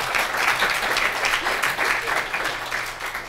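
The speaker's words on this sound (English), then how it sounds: "Do you want to do a second round of clapping?" An audience at an evening career-path discussion event in Kelowna gives a second round of clapping, a dense, steady wash of many hands from start to finish, fairly loud and close.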